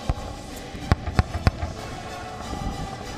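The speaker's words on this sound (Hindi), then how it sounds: "टैंकों से बमबारी और बंदूकों से गोलीबारी की जा रही है।" Several sharp gunshot-like cracks in quick succession, then a softer rumbling boom from a distance, from tank shelling and gunfire during an India-US military exercise; no voices.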